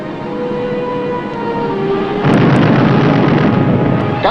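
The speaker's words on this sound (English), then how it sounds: "Gunfire." Gunfire during a naval engagement at sea: a loud, dense rumbling barrage that begins after a steady mechanical hum and then continues unbroken with sharp cracks layered over it.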